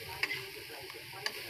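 Chayote and cabbage stir-fried in a pan with a spatula, giving a soft steady sizzle and faint scraping, with a couple of brief sharp clinks of utensil on the pan.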